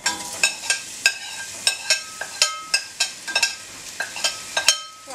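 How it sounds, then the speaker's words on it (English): Onions frying in hot oil for a lamb curry, with a soft sizzle under a steady rhythm of spoon or spatula clinks and scrapes against the pan, close and clear. "wait for the oil to heat up and then add your onions"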